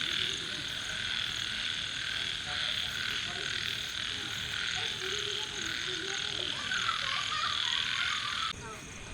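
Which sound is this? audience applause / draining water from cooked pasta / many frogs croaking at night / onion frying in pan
many frogs croaking at night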